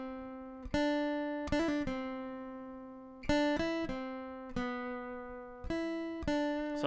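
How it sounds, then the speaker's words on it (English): A guitar plays a plucked harmony part with quick trill-like note flurries, ringing notes that decay between attacks in a steady phrase, close and clean with no talking. "when you first come in with this harmony part, it's the one that we have the little trill in there"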